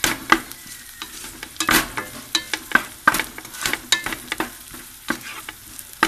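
Tomato frying in hot oil in a pan for egg biriyani, with a steady sizzle broken by repeated sharp scrapes and taps of a spoon stirring, close and fairly loud, with no talking.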